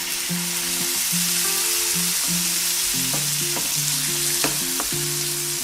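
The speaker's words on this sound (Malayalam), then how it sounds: "തക്കാളി നന്നായിട്ട് സ്മാഷ് ആവുന്നത് വരെ വഴറ്റി കൊടുക്കണം." Tomatoes sautéing in a pan for Malayalam-style tomato rice sizzle steadily up close, with faint tonal hums running under the frying noise and a few sharp scraping clicks of stirring near the end; no one speaks.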